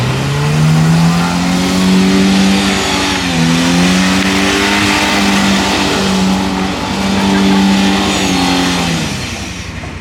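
A mini truck engine accelerates loudly and close, revving up through several gear changes with rising and dipping pitch over ten seconds, a raspy continuous roar with no talk.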